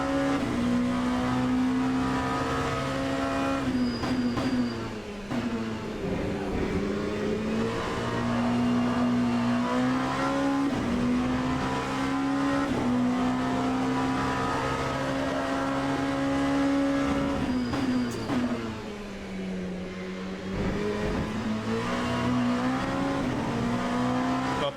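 LMP2 prototype race car in a racing video game, its engine droning steadily and loud throughout, pitch rising and falling with throttle and braking through corners, with brief dips on lifts and faint tire noise.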